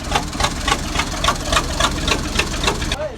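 Massey Ferguson 375 tractor diesel engine fitted with a modified, unwelded exhaust, idling with a steady rapid chugging pulse of regular beats, close and loud, dropping off near the end.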